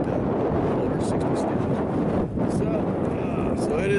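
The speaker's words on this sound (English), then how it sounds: "So it is windy." Strong outdoor wind buffets the microphone at an RC airplane flight test with an E-Flite Apprentice 15e, a continuous loud roar with a brief dip partway through.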